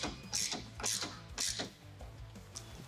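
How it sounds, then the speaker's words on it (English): A T55 socket on a ratchet tightening bed stiffener bolts on a 2024 Tacoma, several quick bursts of rapid clicking in an uneven rhythm, close and crisp, with no voices. "We'll grab our T55 socket and go ahead and start tightening down from the bottom"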